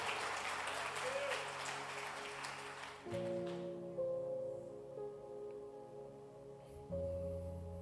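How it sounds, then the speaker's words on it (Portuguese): A church congregation claps together for about three seconds, a broad burst of applause that stops abruptly and gives way to quieter room sound and music tones. "Quer dar uma salva de palmas para Jesus?"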